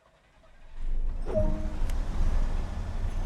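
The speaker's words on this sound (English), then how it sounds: "Start the engines in this vehicle." Diesel engines of a Class 101 driving vehicle in Train Sim World start up, a quiet click followed by a rising low rumble that settles into a steady, close idle with no talking.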